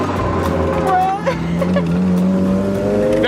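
Modified Mazda Miata taking a turn, its engine holding a steady loud drone that rises in pitch through the corner, heard from inside the car with a voice talking over it.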